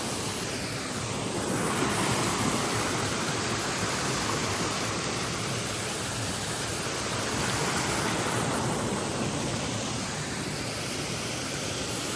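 Waterfall in a forest setting pours as a constant, broad rushing roar, steady and unbroken throughout, with no voices.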